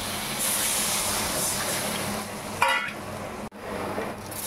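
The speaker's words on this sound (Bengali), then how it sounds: "একটু বেশি করেই জল দিয়েছি।" Water poured into a hot pan of frying spices with turmeric in a home kitchen, giving a brief bright sizzling hiss partway through over a steady low background rumble, with no talking.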